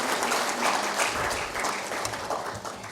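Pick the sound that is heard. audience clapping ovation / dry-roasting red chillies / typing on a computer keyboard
audience clapping ovation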